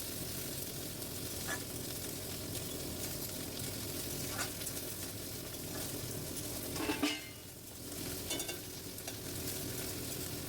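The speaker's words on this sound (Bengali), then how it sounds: "আমি আমার পরিমাণ মতো ডাল নিয়ে কড়াইতে নেড়ে নিলাম শুকনো কড়াইতে ধোয়ার আগে" Dry mung dal is stirred in a dry wok while roasting, giving quiet, continuous scraping and rustling with a faint sizzle and occasional spatula knocks, with no speech.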